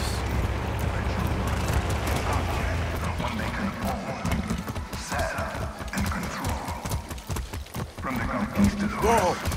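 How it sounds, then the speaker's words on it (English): Horse hooves clip-clopping in the video game Far Cry 6, rhythmic hoof beats under a voice and game background sounds, with a brief whinny near the end. "That's a good horse."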